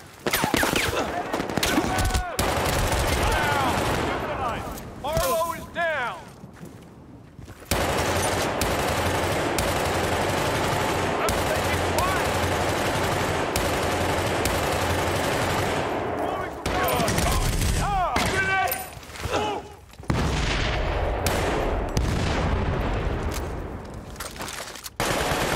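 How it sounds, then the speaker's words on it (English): Assault rifle gunfire in Battlefield: Bad Company, loud and nearly continuous automatic bursts with only brief pauses, filling the whole stretch. "I switched to an assault rifle."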